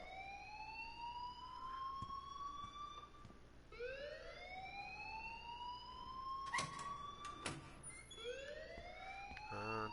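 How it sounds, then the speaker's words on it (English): An alarm blares in the video game Life is Strange: a wailing tone sweeps upward again and again, loud and continuous, with a few sharp clanks midway. "please turn off that alarm since that's your job"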